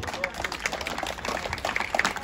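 Scattered crowd clapping at an outdoor horse beauty contest during a village festival on the beach at Thermi, Lesvos, a steady patter of many hands, moderately loud, with voices mixed in.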